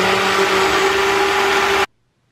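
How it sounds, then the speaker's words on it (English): A blender making a fruit protein smoothie whirs loudly and steadily with a high motor whine, then cuts off abruptly into silence. "Now back to the blender."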